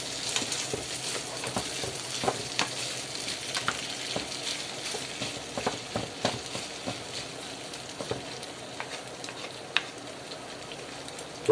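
Bacon, chorizo and rice for a paella are stirred in a hot pan, a steady soft sizzle broken by frequent light scrapes and clicks of the utensil, close and fairly quiet, with no talking.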